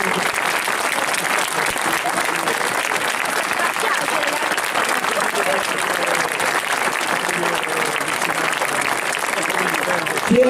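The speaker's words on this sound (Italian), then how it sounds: "Un applauso." Steady crowd applause at the San Giorgio festival horse race in Vieste, continuous and full throughout with a murmur of voices mixed in.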